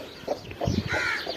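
A rooster clucks a few times at close range in a village setting, short soft bursts over quiet outdoor background noise.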